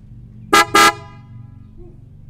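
An aftermarket PIAA Superior Bass Horn fitted to a 2020 Toyota Corolla Hatchback honks twice in quick succession, two loud, short, close blasts over a faint low background hum.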